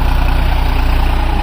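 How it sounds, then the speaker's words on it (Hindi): A New Holland 6510 65 HP four-wheel-drive tractor engine idles loudly and close by, with a steady low diesel throb pulsing evenly throughout. "65 HP का ट्रैक्टर भाइयों, 4-व्हील ड्राइव में,"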